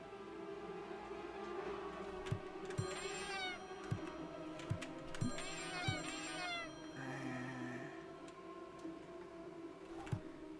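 A cat meows repeatedly in the video game Friday the 13th Killer Puzzle, drawn-out mews recurring over a steady game soundtrack with scattered ticking clicks and no talking.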